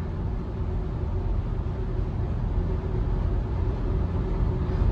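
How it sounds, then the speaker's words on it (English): Steady wind and road roar fill the cabin of a 1985 Mercedes 300TD wagon cruising over a windy highway bridge, a constant low rumble with airy hiss on top and no talking. "You can hear a little bit of wind noise right now."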